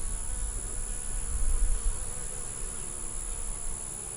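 Honey bees buzz steadily inside an open hive, a dense continuous drone close to the microphone with no talking over it.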